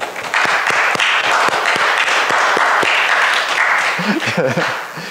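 A church congregation claps together during a Sunday worship service, dense steady applause filling the room, with a few sharp louder claps near the front and a voice rising briefly near the end.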